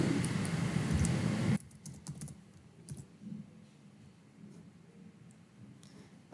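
Keys clatter on a computer keyboard in quick irregular bursts, loud and dense at first, then lighter scattered clicks, close by with no talk.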